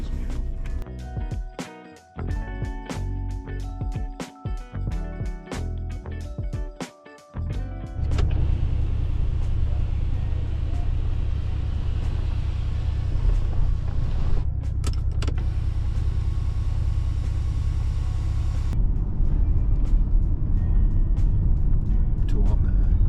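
After some intermittent clattering and handling noises, a diesel track car drives off with a loud, steady engine rumble and road noise that carries on to the end.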